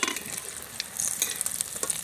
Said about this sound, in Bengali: ফিশ ফ্রাইগুলো খুব ভালো করে আমি লাল লাল করে ভেজে নিয়েছি।